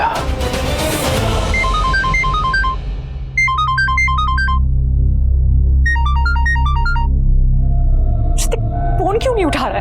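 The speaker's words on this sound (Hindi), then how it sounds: "फोन क्यों नहीं उठा रहा" A phone ringtone plays a repeating electronic melody in bursts of chiming notes, ringing on unanswered at night indoors over a low droning musical background, ending with a brief whooshing sweep.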